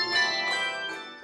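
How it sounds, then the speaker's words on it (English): Handbells from a six-octave set ring in overlapping, sustained metallic tones that shimmer and slowly fade, clear and fairly close. "We have a 6-octave set of bells that we use."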